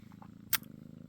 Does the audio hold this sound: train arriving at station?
no